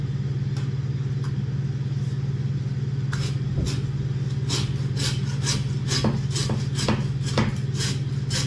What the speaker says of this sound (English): Put the handsaw to work to cut through the back.